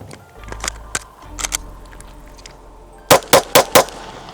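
A Glock pistol fires four sharp, loud shots in quick succession near the end, preceded by quieter handling clicks and movement.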